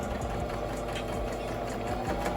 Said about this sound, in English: go ahead and press on the pedal. You don't have to press on it that hard, just softly, and then it will sew for you